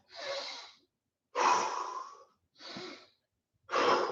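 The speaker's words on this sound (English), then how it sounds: "Couple deep breaths." Four deep, heavy breaths after a home leg workout, each a loud rasping exhale or inhale close to the microphone, separated by short silences.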